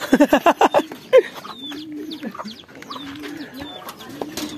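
Racing pigeons coo in a loft, low throaty calls repeating near and clear after a brief burst of sharp clucking sounds at the start.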